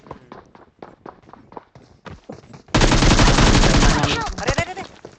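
Rapid burst of automatic gunfire from the mobile battle royale game PUBG Mobile, loud and sustained for over a second after a stretch of quieter scattered game sounds, then tapering into further action noise.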